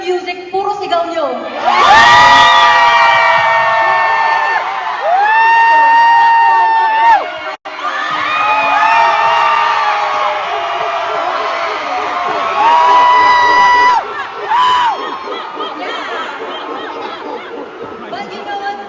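A concert crowd at a show in San Francisco screams and cheers loudly in long, high sustained waves, briefly broken by a short gap before surging again.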